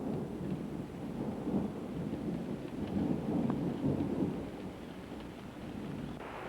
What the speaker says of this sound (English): Then came days of relentless rain